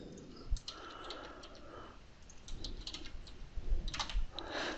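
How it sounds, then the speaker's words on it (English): Soft computer keyboard typing, scattered light key clicks in short bursts, faint and close over a low background noise, with no talking. "we can just type right onto each of these."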